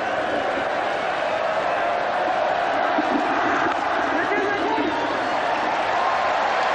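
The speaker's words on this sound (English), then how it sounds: "listen to the crowd" A large cricket crowd at Eden Park during the 1992 World Cup semi-final, a continuous loud roar of voices and chanting that holds steady throughout, with commentary over it.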